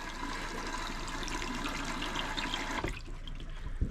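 Water rushes steadily into the porcelain bowl of a Dometic toilet, a close, continuous hiss and gurgle that cuts off abruptly near the end, leaving faint drips.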